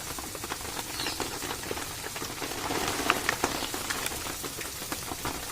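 Steady rain falling outside, heard as a soft, continuous patter with scattered sharper drops ticking on a surface, fairly faint and even throughout.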